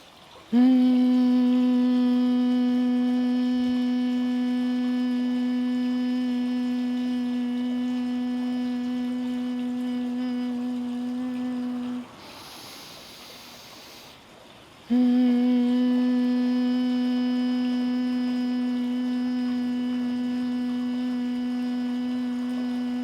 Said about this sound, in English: We're going to feel the humming in our sinus cavities in our face.